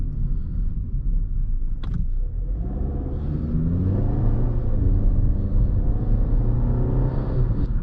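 A 2021 Volkswagen Passat drives along, its engine rumbling steadily from inside the cabin, with a brief click early on and then smoothly climbing revs as it accelerates.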